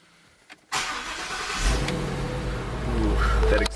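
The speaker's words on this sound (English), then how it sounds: "Ooh, that exhaust." A Ford Mustang engine cranks and fires after a short pause, then settles into a loud, deep exhaust rumble that swells a little toward the end, heard close up.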